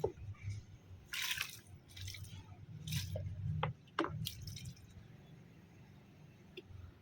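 Water is poured onto the soil of potted plants, producing soft, faint bursts of trickling, dripping and squelching. A low background hum runs underneath, and the pouring trails off toward the end.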